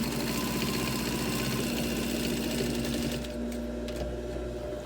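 A sewing machine runs steadily while stitching pleats on a hospital-style fabric face mask, a continuous close mechanical hum that eases slightly near the end.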